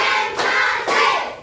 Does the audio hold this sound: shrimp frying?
no